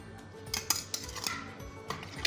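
Metal utensil clinking and scraping against a bowl while egg batter with flour and breadcrumbs is mixed, a few sharp clinks standing out from softer scraping, close and fairly quiet.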